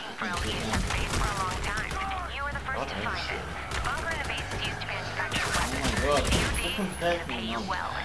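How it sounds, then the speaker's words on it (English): Enemy gunfire in the video game Army of Two, with dense automatic bursts and rapid shots crackling almost nonstop, loud and close, while voices talk over the shooting. "they're shooting at me"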